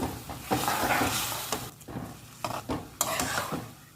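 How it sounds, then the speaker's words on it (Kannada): Tempering in a pan being stirred while making Mangalorean steamed rice balls, with close scraping strokes of a spoon against the pan over faint sizzling, in irregular bursts of stirring. "ಒಗ್ಗರಣೆ ರೆಡಿಯಾಗಿದೆ ಈಗ ಇದನ್ನು ಈ ರೀತಿಯಲ್ಲಿ ಕೈ ಆಡಿಸ್ಕೊಳ್ಳೋಣ"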